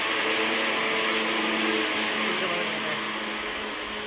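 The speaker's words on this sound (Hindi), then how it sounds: "मिक्सी की बहुत ही जोर से आवाज़ आती है" A mixer grinder whirs loudly and steadily, a dense continuous motor drone that eases off slightly near the end.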